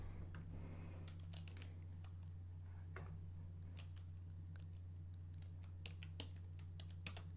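Keys on a computer keyboard are tapped in irregular bursts of sharp clicks, quiet and close over a steady low electrical hum, with no voices.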